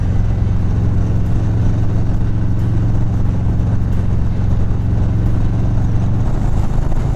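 Harley-Davidson Low Rider S motorcycle engine under throttle: a loud, continuous low rumble with steady exhaust drone that holds evenly throughout, with no speech.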